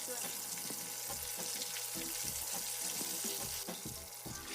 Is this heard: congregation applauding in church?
no